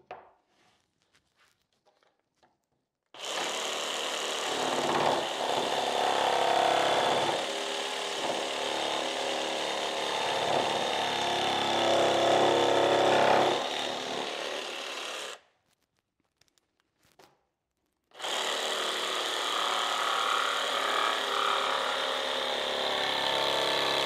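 Jigsaw cutting MDF skirting board, two sustained bursts of harsh buzzing saw noise, close and loud, separated by a short silence.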